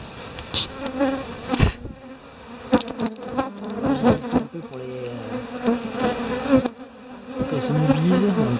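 A dense, steady buzzing of many bees swarming around a hornet, close and continuous, with occasional sharper knocks and rustles mixed in.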